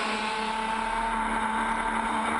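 Kart engines at a CIK FIA U18 world championship race in Alcaniz, Spain, a steady, loud, high-pitched droning whine held throughout without breaks.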